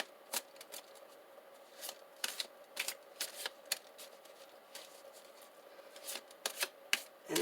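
Tarot cards are shuffled in quick riffling bursts, crisp and close, with brief pauses between several rounds of shuffling in a quiet room.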